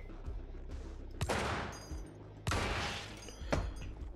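Gunshots ring out in the video game Receiver. Three sharp, loud cracks sound at irregular intervals, and each one leaves a short ringing tail.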